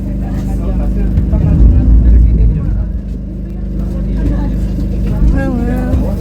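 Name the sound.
speedboat docking at the pier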